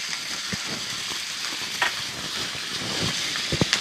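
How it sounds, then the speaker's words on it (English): Butter sizzling hard in a hot cast iron pan with steak, a loud continuous frying hiss close by, broken by a few small pops and knocks, with no voices. "we're going to take about 2 tablespoons of butter, drop it in our pan"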